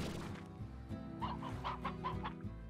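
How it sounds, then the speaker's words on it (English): Chickens cluck in the video game Slime Rancher, a few short clucks and squawks over a steady background music bed, fairly close and moderately loud. "I can finally get you now, chickens."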